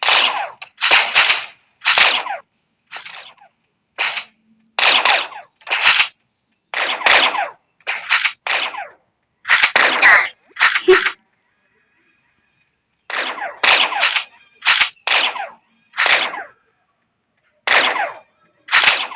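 Repeated gunshots from the video game Chicken Gun, sharp broadband cracks fired in irregular bursts and quick clusters with brief pauses between volleys, loud and close, with a silent gap midway before the shooting resumes.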